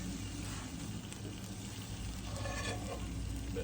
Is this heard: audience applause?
no